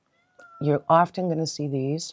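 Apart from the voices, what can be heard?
cat meowing in Morocco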